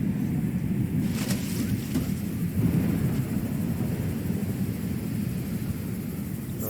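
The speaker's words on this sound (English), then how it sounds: "Oh, it's lightning out here." Thunderstorm in the Subnautica Below Zero video game: a steady rumbling, rain-like roar fills the scene, with a faint crack of thunder early on, constant and fairly loud with no talking.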